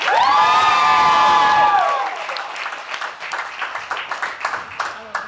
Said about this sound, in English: When I say damn and I hold myself, that's your cue to applause